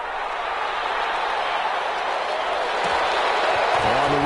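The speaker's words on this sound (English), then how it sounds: "How about some applause for the defense there?" Crowd applause rolls through an American football video game on PS4 as a steady, loud wash of clapping and cheering from a stadium crowd, with a commentator's voice creeping in near the end.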